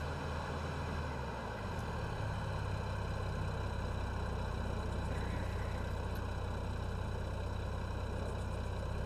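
Idling tractor engine in the Farming Simulator 22 video game, a steady low rumbling drone with a faint higher whine, continuous and even throughout with no talk over it.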